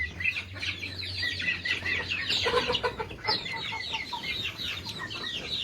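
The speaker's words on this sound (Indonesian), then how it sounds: "pagi ini saya melihat ada banyak ayam di kandang ini" A crowd of nearly 100 chickens in a coop clucks and chatters continuously, the overlapping calls fairly close over a low steady hum, with no talking.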